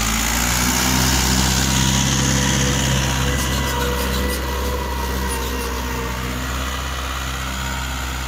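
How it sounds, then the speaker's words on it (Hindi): A Mahindra 575 DI XP Plus tractor engine running steadily nearby under pulling load, a loud continuous drone with a low rumble that stays constant throughout. "बहुत ही बढ़िया खिंचाई कर रहा है जी ट्रैक्टर"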